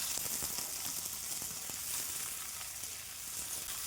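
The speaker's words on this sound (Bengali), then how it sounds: "আবার কড়াইতে তেল দিয়ে আলুগুলোকে ভেজে নেব" Potatoes frying in oil in a wok for a vegetarian potato and soybean dish, giving a steady, close, continuous sizzle throughout with no talking.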